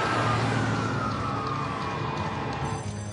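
A loud, continuous electronic alarm tone sounds in an aircraft cockpit after the red alarm button is pressed, steady and unbroken for the whole stretch with a rising tonal band over a dense background rumble.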